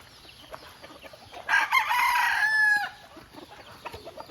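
A fighting rooster crows loudly in the middle, a long strained call over a busy background of clucking fowl and faint chatter on a farm.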